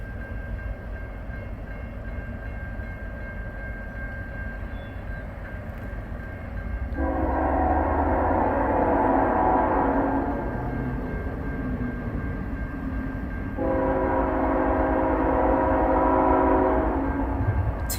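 A southbound CN freight train led by a Tier 4 locomotive rolls past at Ladysmith, with a steady low rumble throughout and two long, loud horn blasts sounding close by.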